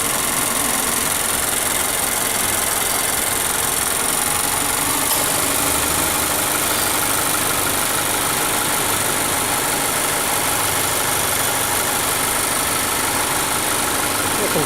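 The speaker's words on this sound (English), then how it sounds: "You can hear the motor vehicle running." A car engine idles steadily with the air conditioning running, a continuous broadband hum and whir with no break, heard up close from the open engine bay.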